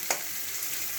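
Chopped green beans fry in a hot pan for a Maggi noodle dish: a soft, steady sizzle with two brief sharp clicks, one near the start and one at the end, all quiet and close.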